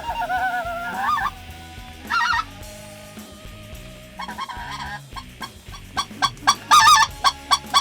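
Speckled-belly (white-fronted) geese honk repeatedly during a South Louisiana duck hunt, with loud, rapid calls that grow more frequent and insistent toward the end, heard alone without talk.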